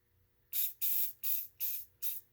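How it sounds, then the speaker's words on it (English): WD-40 sprayed onto the wheels of a Lathem time clock punch section: five short, sharp aerosol hisses in quick succession, close and clear with brief gaps between bursts. "I'm just going to take my WD-40 and give it a good spray"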